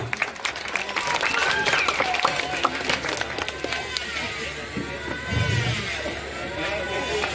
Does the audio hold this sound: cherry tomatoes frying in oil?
no